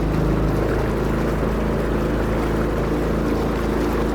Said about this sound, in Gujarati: પાંચ જણા બોટિંગ બોટમાં બેઠા છે